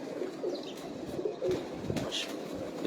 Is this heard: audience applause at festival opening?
no